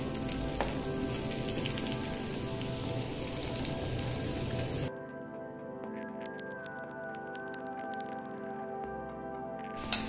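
Sliced onion sizzles in hot ghee for a desi-style masala Maggi, a steady close crackling fry that is loud at first and then drops to a quieter, softer hiss partway through.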